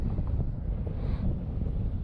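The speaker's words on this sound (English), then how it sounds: "This gusty winds." Gusty wind buffets the microphone of a light aircraft in flight, a steady, loud low rumble with no pause.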